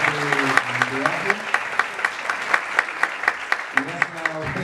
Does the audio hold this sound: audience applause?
yes